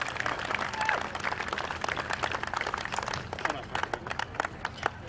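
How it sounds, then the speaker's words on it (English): Audience applause at a speech during a rowing championships event, broadband clapping spread through the clip with scattered sharper claps, moderately loud with some background voices. "So give yourself a round of applause."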